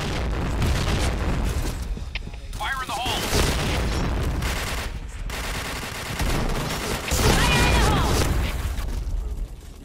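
Grenade explosions and gunfire in the shooter game Point Blank, loud booming blasts and bursts of shots over continuous battle noise, with brief voice callouts mixed in.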